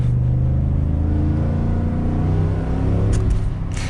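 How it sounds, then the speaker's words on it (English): Deep, steady V8 exhaust roar from a 2021 Ford F-150 with a 5-liter V8, a loud continuous low rumble heard from inside the truck while driving, with no talk over it. "Definitely like the V8 roar"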